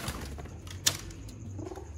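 Soft, low cooing from Sialkoti pigeons, including a Ferozpuri female, faint and nearby, with one brief sharp click partway through.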